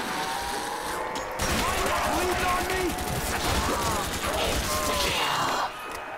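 Non-stop automatic gunfire in a zombies custom map video game, steady rapid shots running for several seconds with a player talking over it.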